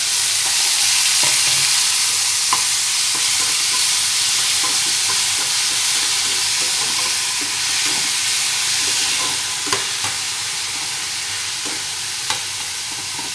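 Chopped tomatoes frying in a pan for a green onion bhaji, a loud continuous sizzle with occasional light scrapes and clinks of a spoon stirring.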